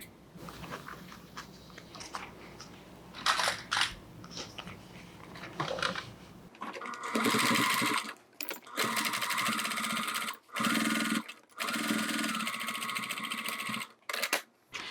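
A sewing machine stitching fabric for a DIY wallet with card slots and coin pocket, running in several loud bursts separated by short pauses, after a quieter stretch of handling noises.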